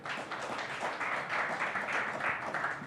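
Parents in a live comedy show audience in Las Vegas applauding, a continuous soft wash of clapping with a murmuring crowd, steady and moderately distant.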